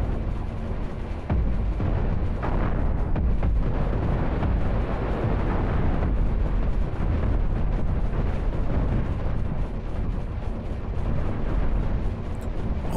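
Cannon fire in the space-combat game Cosmoteer, a dense, continuous roar of heavy booming blasts and rumbling explosions that fills the entire stretch loudly and without pause.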